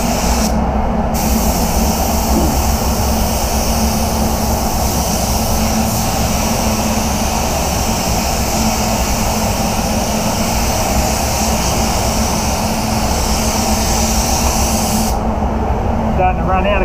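Continuous loud hiss of a spray gun spraying metallic car paint on a Mazda CX-9, steady and close, with brief pauses near the start and end.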